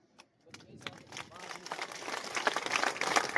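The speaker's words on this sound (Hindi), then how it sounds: "और ताली बजाएं, ताली बजेगी।" Audience at a public talk breaking into clapping with both hands, starting with a few scattered claps and swelling into fuller, louder applause, with a voice faintly audible underneath.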